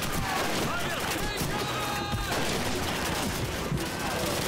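Dense, continuous machine-gun fire from a German MG-42 in the World War II shooter Call of Duty 2, mixed with other battlefield gunfire and shouting voices, loud and sustained throughout.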